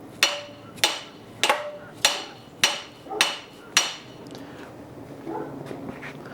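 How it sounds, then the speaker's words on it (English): Hammer taps on the one-piece rear axle of a 1976 Jeep CJ-5 during restoration, driving the axle and bearing out: six sharp, evenly spaced metallic strikes ringing close by, then quieter shuffling. "I think I can tap on that and it will actually push this axle out"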